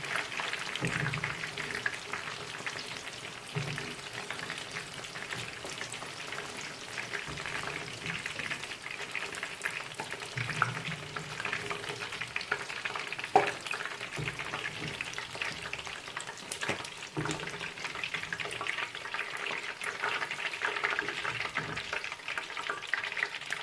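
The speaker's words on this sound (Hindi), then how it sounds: "जो हमारा बाकी की रह गया चिकन, उसको भी हम इसी तरह फ्राई कर लेंगे" Chicken pieces deep frying in hot oil, a steady, even crackle and bubbling sizzle that carries on without pause, with occasional faint knocks from the pan.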